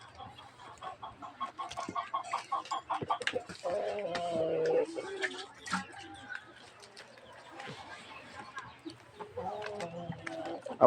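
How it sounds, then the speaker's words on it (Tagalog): Free-ranging chickens cluck and call around a backyard, scattered clucks and bursts near and far with bits of human voice and handling noise between them. "Marami silang pakawala na manok."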